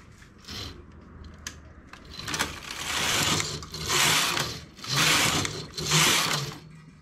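A domestic knitting machine carriage sweeps across a row in several loud whirring, clattering passes separated by short pauses, close by with no talking.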